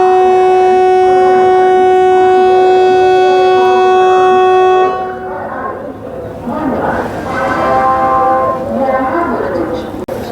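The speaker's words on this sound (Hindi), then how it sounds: "अब ट्रेन यहाँ से डिपार्ट करेगी अपनी अमृत भारत एक्सप्रेस।" An Amrit Bharat Express hauled by a WAP-7 electric locomotive sounds a long, loud steady horn, then rolls away from Tundla Junction with rising rumble and clatter, with voices talking over the departure.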